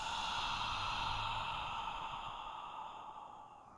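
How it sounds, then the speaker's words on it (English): An audible exhale out through the mouth during a yoga breathing exercise, one long breathy release that fades slowly over several seconds, close and alone without talk. "And audible exhale."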